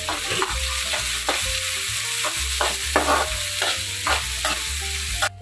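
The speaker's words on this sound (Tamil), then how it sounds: "சேர்த்து வெங்காயம் நல்ல பொன்னிறமா வரங்கிற வரைக்கும் நம்ம வதக்கிக்கலாம்" Onions sautéing in oil for a Tamil-style egg curry, with a loud close sizzle broken by regular scraping stirs against the pan, roughly one every half second, and no voices.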